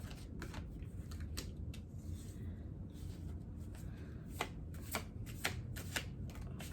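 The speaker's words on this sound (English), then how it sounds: "I was shuffling off camera" Tarot cards shuffled by hand close by, a rapid run of crisp riffling and flicking bursts, steady then sharper toward the end, with no talk.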